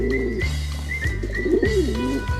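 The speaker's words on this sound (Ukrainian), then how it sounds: "Ну, звичайно, це голуб." A pigeon coos in repeated low, soft rolling calls, close and clear, with no talking.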